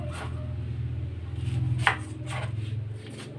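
A knife chops an onion on a board with a few spaced, distinct cuts over a low steady hum, close and fairly soft.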